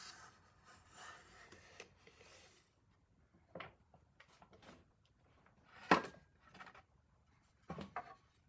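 Wood being shaved off a round rail with a hand tool, heard as several short rasping scrapes in irregular bursts, fairly close and moderately quiet, with pauses between strokes.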